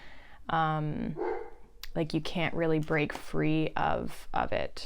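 A dog barks repeatedly in short, close bursts, mixed in under someone speaking steadily.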